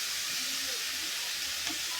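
Papaya pieces hit a hot pan holding a rohu fish head, giving a loud, steady sizzling hiss that stays even throughout.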